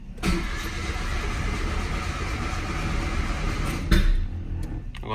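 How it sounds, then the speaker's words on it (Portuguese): A Chevrolet Celta's engine cranks on a cold morning without catching, a continuous rough churning lasting several seconds before it cuts off abruptly, heard up close. "O Celtinha não funciona, cara."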